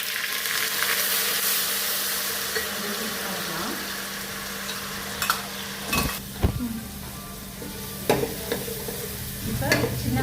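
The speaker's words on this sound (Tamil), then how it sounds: "இப்போ சின்ன வெங்காயம் நல்லா வதங்கிடுச்சு." Small onions sauté in hot oil with cardamom, cinnamon and cloves, giving a steady close sizzle with occasional scraping clicks of a spoon stirring the pan.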